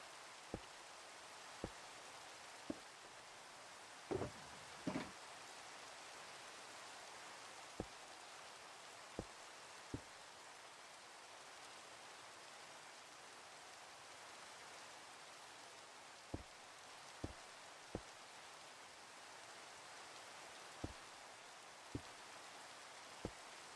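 Rain falls in Minecraft, a soft, even hiss of steady showers throughout, with occasional sharp clicks or taps breaking through at irregular intervals; faint and calm, with no talking.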